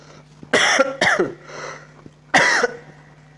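Three harsh coughs from one person, two close together then a third after a pause, loud against a quiet room with a faint steady hum.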